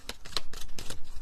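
A deck of cards shuffled by hand, a quick series of soft riffling and snapping bursts in an irregular rhythm, close and fairly quiet.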